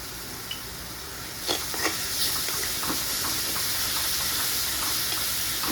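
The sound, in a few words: potato and turmeric mixture frying in a pan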